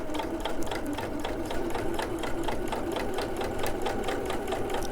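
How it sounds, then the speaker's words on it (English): Sewing machine running steadily as it top stitches a welt pocket, a continuous rapid needle clatter at close range, loud and alone with no talk. "we're just going to top stitch it in place"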